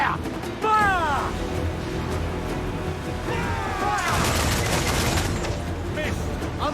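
Ship cannons fire in a naval battle in Assassin's Creed IV: Black Flag, a dense fusillade of booming shots and crashes, with shouting crew voices and music over the barrage.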